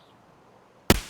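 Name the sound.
single-fire gunshot in Escape from Tarkov video game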